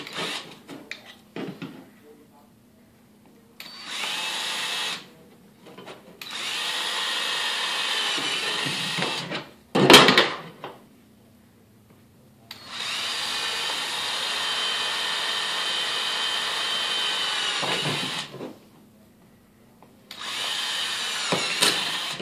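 Repeated bursts of a power drill whirring into a plastic Otterbox phone case, several runs of a few seconds each with pauses between, close by, plus a sharp clunk midway.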